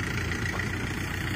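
A tractor engine idles steadily at night with a continuous low rumble, close and even, with no talk over it.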